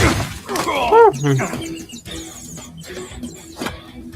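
Glass shatters in a Ninjago-style cartoon fight, a sharp breaking burst followed by tinkling debris and whooshing effects, with scattered bright chimes trailing off across a few seconds.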